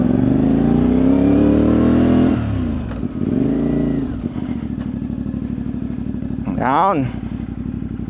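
A 450MT big bike's engine hums and revs as the motorcycle is maneuvered into a parking spot at a cafe, loud and close, with a rev swell near the end; a voice speaks briefly.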